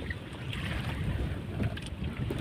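Strong wind with rain roaring and buffeting the microphone in Lopez, Quezon, a heavy low rumble with gusty swells throughout, loud and close.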